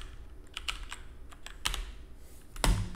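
Keystrokes on a computer keyboard during video editing, a few separate taps and quick clicks over three seconds, the last one heavier, close up and quiet with no talking.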